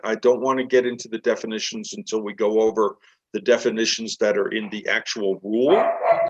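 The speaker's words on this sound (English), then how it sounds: "That's my dog." A dog barks in the background of an online technical working-group meeting, its short barks mostly buried under continuous close speech from a participant.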